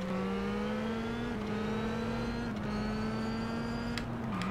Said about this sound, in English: this is a rally car taking on some 4x4s